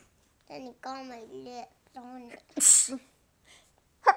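A child sneezes once, a sharp, loud burst set between stretches of the child's own chatter in a quiet indoor room.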